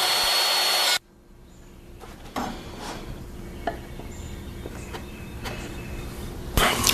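A handheld router makes a calibration cut in work clamped in a fixture, turned 90 degrees from before, with a template clamped down. A loud, steady motor whine lasts about a second, then drops to a quieter hum with scattered ticks and scrapes.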